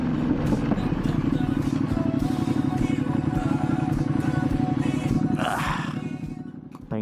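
Motorcycle fitted with loud aftermarket exhaust pipes idling downtown, a deep throbbing rumble with rapid popping pulses, close and loud, with a brief higher sound near the end.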